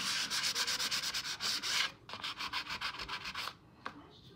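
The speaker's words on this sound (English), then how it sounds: "We just want to get rid of that, so we're going to sand that." Sandpaper rubs back and forth over a painted wooden table, distressing the painted letters in a series of quick rhythmic close strokes that pause, resume more softly, then end in a few isolated scrapes.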